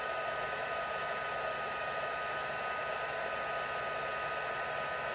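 Heat tool blowing hot air over paper for embossing crafts, a steady, unbroken whooshing roar with no pauses, close and even throughout.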